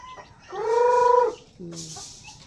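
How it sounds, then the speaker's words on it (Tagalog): Chickens on a farm give a drawn-out tonal cluck followed by a shorter lower one, close and clear against quiet background. "Saka ng mga manok"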